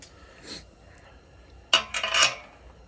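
A wrench works a bolt on a Toyota Tundra full-width front bumper, giving a quiet early scrape, then a loud cluster of close metallic clinks and rasping turns near the end, with no talk.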